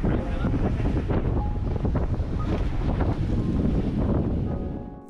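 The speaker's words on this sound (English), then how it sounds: "the wind picked up to 30 knots and we hadn't reefed the sails" Strong wind buffets a sailboat in 30-knot gusts with unreefed sails, a loud, constant roar of microphone wind over rushing water that holds steady throughout and eases slightly at the very end.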